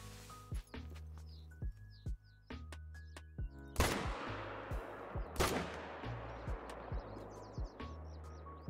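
Hunting rifle shots ring out in theHunter: Call of the Wild: several sharp, loud cracks spaced a second or so apart, two heavier booms mid-clip, with birdsong chirping faintly in the background throughout.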